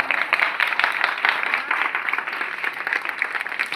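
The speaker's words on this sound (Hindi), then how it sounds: "एक बार जोरदार तालियों से उनके लिए।" An audience claps at a commemoration event held by an academy on its founder's death anniversary, a steady, fairly close wash of applause with uneven individual claps that lasts throughout, with no voices over it.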